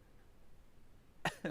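Two quick coughs close together at the very end, after a stretch of quiet room hiss.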